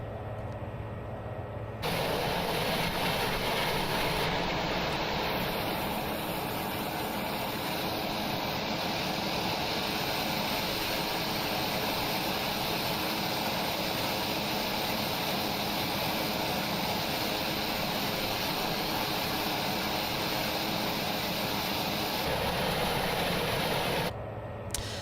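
The single turboprop engine of a TBM900 in the X-Plane flight simulator drones steadily at constant loudness with a broad propeller roar, stopping abruptly near the end and heard alone without talk.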